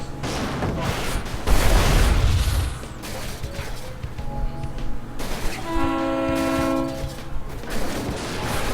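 In the Bridge Constructor train game, a freight train crosses a bridge, sounding a loud tonal horn over rumbling rail noise, with a heavier thump in the middle and the horn blasting again near the end.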